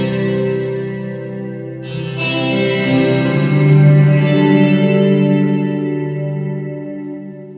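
Guitar run through a Strymon Big Sky reverb pedal, sustained notes swelling into a huge, washy ambient tail that builds and lingers, loud and alone without talk.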